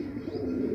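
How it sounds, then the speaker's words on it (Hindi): Pigeons cooing, one voice, a low throaty purring coo held through a brief moment, close and clear over faint background noise. "ये जो कबूतर बचे हैं ये वही परवाज़ी कबूतर हैं"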